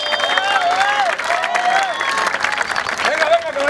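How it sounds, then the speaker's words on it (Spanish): Applause from an outdoor street comedy audience in a public square, a steady crowd clapping with scattered cheers, while voices keep talking and calling out over it. "Un aplauso para el señor"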